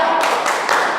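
Children in a classroom clap in time as part of a chant, giving three sharp, evenly spaced claps, close and loud, with voices around them.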